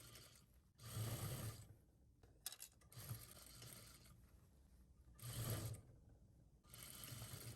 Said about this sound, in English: Start sewing the other side.